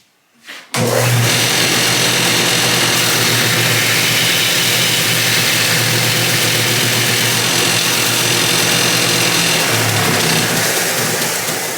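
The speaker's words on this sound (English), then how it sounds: "I'm going to do that, again, I'm going to do that on the belt sander." A belt sander starts with a sharp onset and runs at a loud, steady whine while shaping a nut for a lap steel guitar, with grinding contact texture throughout and no talking.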